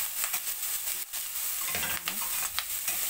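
Garlic, onion, tomato and long chili peppers stirred together in a pan without oil, giving a soft steady sizzle with scraping stir strokes throughout, no talking.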